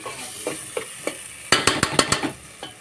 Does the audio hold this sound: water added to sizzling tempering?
yes